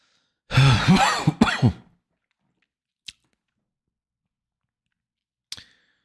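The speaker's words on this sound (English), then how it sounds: "Sorry for all the coughing." A short fit of harsh coughing up close, followed by silence and two small, isolated throat sounds spaced apart.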